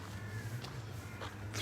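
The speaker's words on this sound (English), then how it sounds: "hearing my footsteps on a sand path at the moment, covered with leaves." Soft footsteps crunch along a sand path strewn with fallen autumn leaves on a quiet morning walk among trees, a few faint steps spaced about half a second apart over a low steady background hum.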